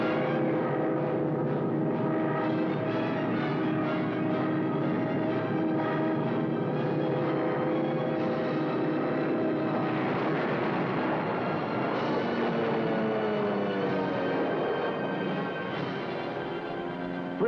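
Wartime aircraft roar overhead in a North Africa battle scene, a dense sustained engine drone with tonal harmonics and shifting pitch, loud and continuous with no talking.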